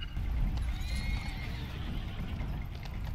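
A horse in the video game Blood of Steel, set during a siege battle, lets out a clear whinny over rumbling hooves and game noise, close and fairly loud.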